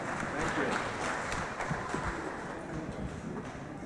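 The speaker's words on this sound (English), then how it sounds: "So let's give her a big round of applause." An audience at a 2019 graduation ceremony applauds with a steady, fairly faint patter of clapping that fades slightly toward the end, with voices faintly audible under it.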